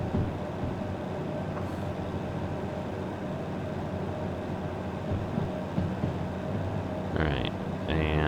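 A locomotive in the Derail Valley train simulator runs with a steady, loud rumbling drone and clatter that continues throughout, rising briefly near the end.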